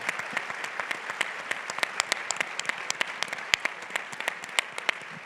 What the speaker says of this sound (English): let's give her a round of applause in absentia